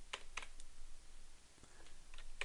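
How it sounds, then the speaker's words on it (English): A few sharp, isolated key presses on a computer keyboard, the 0 and Enter keys, during a DJ setup in Ableton Live; the clicks are spaced irregularly over a steady background hiss, with no voices. "I'm going to hit 0 on my computer keyboard. Hit Enter."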